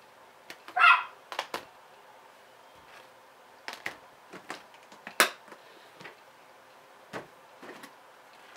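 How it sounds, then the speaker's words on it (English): Dogs bark indoors at some distance, a handful of scattered, fairly faint barks and yelps spread irregularly over several seconds with quiet room noise between. "I'm sorry, I have dogs barking."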